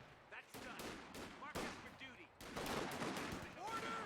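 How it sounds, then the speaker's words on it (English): An MG42 machine gun laying down suppressing fire in the strategy game Company of Heroes 2: sustained bursts of rapid shots, growing denser and louder in the second half, with a commentator talking over the fire. "the MG's exited the house now and is laying down the suppression"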